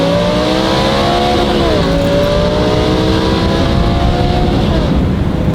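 Audi R8 V10 fitted with a straight-through F1-style exhaust, loud and close, with rising and falling engine tones from revving that hold steady throughout under constant roar.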